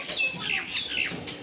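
Madras-breed pigeons in a loft, heard as a brief flurry of thin, high chirps and calls, several quick notes close together over about a second and a half.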